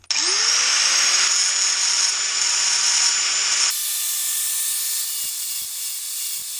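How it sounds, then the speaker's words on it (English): An angle grinder fitted with a thick cutting disc grinds the link pin heads off a motorbike chain, a loud close steady high whine and hiss that drops in tone partway through, with a few light taps near the end. "Got my grinder set with a thicker cutting disc, sort of more like a grinding disc."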